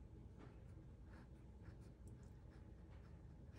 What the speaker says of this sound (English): And then I'm going to write the name of this ink.